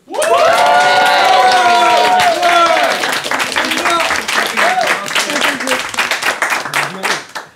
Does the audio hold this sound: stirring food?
no